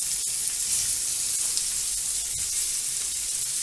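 Onions sizzling and frying in a hot pan while duck sauce is prepared with roasted vegetables, a steady close crackling hiss with faint stirring clicks, no voices.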